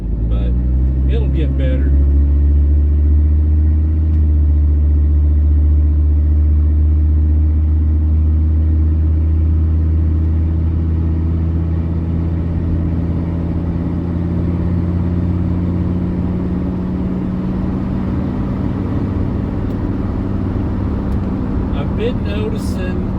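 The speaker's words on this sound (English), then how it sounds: "that's probably got to do with the brick road that I'm driving on right now" Mercedes W126 300SD diesel sedan cruising over a brick road, a continuous low rumbling drone with a steady engine hum and road vibration throughout, with brief speech near the start.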